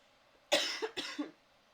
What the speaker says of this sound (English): please forgive me for the coughing